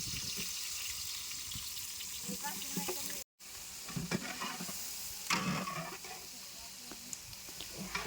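Chopped onions and curry leaves frying in a pan for a Kerala-style ghee rice and chicken meal, a steady close sizzle with stirring scrapes, briefly cut off partway, as a person talks over it.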